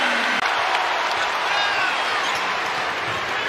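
A Purdue basketball arena crowd applauds and roars after a hook shot, forming a loud, dense, steady wash of sound that fills the whole moment.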